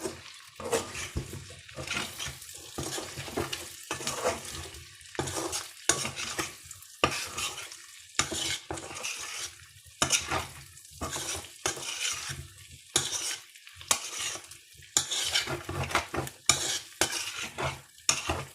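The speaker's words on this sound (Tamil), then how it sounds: "இப்போ இது அடுப்பில் நல்லா எண்ணெய் காஞ்சிடுச்சு." A spoon stirs lime pickle in hot oil in a pan, with frequent scraping strokes over a continuous sizzle, close and steady.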